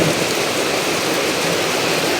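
Heavy rain pours steadily, a dense continuous hiss of drops drumming on surfaces close by, with no voices.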